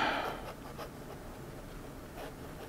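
Monteverde Monza 3 fountain pen with an OmniFlex flex nib writing on paper, giving faint, close, soft scratching strokes in a quiet room.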